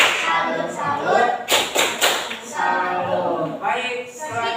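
A class of children clapping in a salute for a classmate named Rafa, with a few sharp, loud claps in quick succession mixed with voices chanting along.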